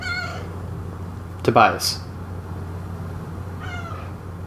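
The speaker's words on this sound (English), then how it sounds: "Meow." A pet cat meows near a person talking: a short, clear meow in the middle and a fainter meow-like cry at each end, with speech alongside.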